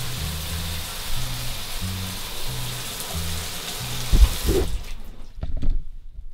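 Water pours from the tap of a combined shower and bathtub, a steady hissing stream over a low pulsing hum, then a few clunks as it cuts off and fades to near silence.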